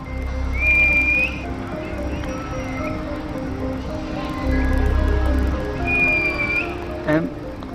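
Rival street gangs in Glasgow trade loud, drawn-out whistles heard from inside a parked car, several rising calls spaced apart over a low engine-like hum.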